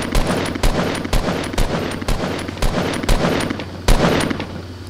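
Rapid repeated gunshots in the video game Fortnite, a loud, close series of sharp bursts spaced irregularly over five seconds.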